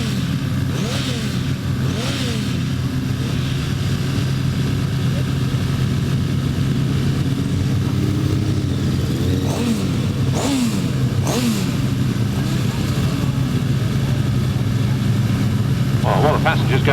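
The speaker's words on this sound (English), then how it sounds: "drivers have a little ride round, warm up the engines, settle down the nerves" Grasstrack racing motorcycles at the 2005 British Masters ride round warming up their engines, a steady droning roar with repeated revs rising and falling over a continuous engine rumble.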